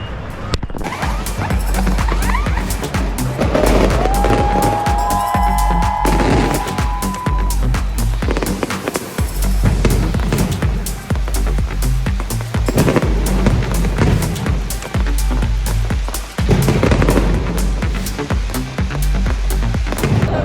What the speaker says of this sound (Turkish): Her gün öğle saatlerinde 2'de büyük bir havai fişek gösterisi, büyük bir patlama oluyor.